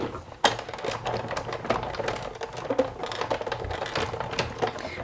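A hand-cranked Big Shot die-cutting machine grinds steadily with dense clicking and rattling, a continuous mechanical churn close by, with no talking.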